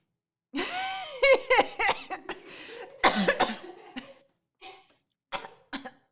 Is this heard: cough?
yes